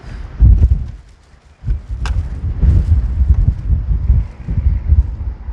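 Wind buffets the microphone outdoors, producing loud, close, low rumbling gusts that ease briefly before surging again and continuing unevenly.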